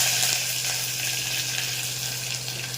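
Loud, steady sizzling and crackling as onion, green chilies, dried red chilies and curry leaves fry in hot oil in a steel pan, close up and continuous with no talking.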